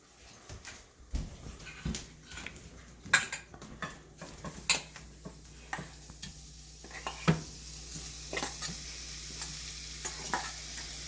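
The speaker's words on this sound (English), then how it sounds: "I'm gonna put it on my frying pan and fry it a little" Tuna sizzles steadily in a frying pan on medium heat, with repeated scraping and clinking of a utensil stirring and turning it, close up.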